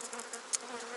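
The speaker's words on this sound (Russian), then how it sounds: "Вот сколько пчел, посмотрите." Honeybees buzz around an opened hive frame during a spring inspection of a weak colony, a steady close swarming hum with a brief louder buzz as one flies past.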